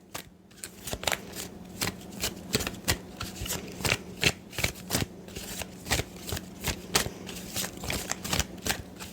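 Animal Oracle card deck being shuffled by hand: a quick series of crisp riffling snaps and flutters, close and fairly soft, repeating in an uneven rhythm throughout.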